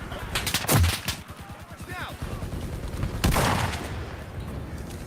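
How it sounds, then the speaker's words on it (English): A DShK heavy machine gun fires in a multiplayer battle game, with rapid bursts of heavy shots, echoing reports and further gunfire under a commentator's talk. "The heavy machine gun's in a great spot."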